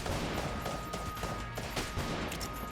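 Rapid gunfire from the video game Enter the Gungeon crackles in dense, overlapping bursts at moderate volume, continuous shots layered with brief impacts.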